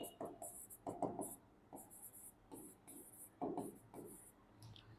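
Pen scratching out notes on paper during a Class 10 biology lesson on digestion, in short bursts of strokes with brief pauses, close and moderately loud.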